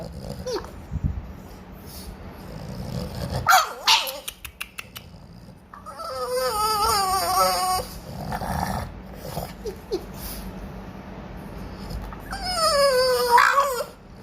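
A dog in a Thai home howls and whimpers in drawn-out, wavering whines. Short growly grunts come between two long howling spells, each loud and close by.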